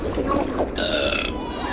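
A loud, drawn-out cartoonish burp effect from the MechWarrior Online video game rolls out over busy game audio with mech combat noise.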